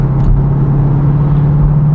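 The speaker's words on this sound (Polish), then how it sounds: "Zobacz, jak ten samochód przyspiesza na szóstce." A white 2016 Seat Ibiza Cupra with a 1.8-litre TSI engine rated at 192 hp pulls hard in sixth gear, giving a loud, close, steady engine drone with a strong low hum.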